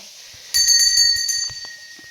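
A single bright metallic temple bell strike rings out at Gonasika Guptaganga and sustains a clear tone, slowly fading over about a second.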